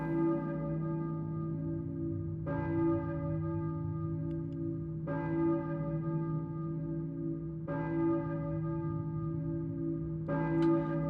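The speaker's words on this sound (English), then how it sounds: "Church bell ringing," A church bell tolls in the Silent Hill video game, four loud resonant strikes at steady intervals of about two and a half seconds, each ringing out over a continuous low droning ambience.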